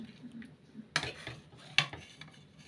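Food is served onto metal plates at a home meal, with rice, dal and potato dished out. Two distinct metallic clinks ring out about a second apart, fairly faint, with light scraping between them and no talking.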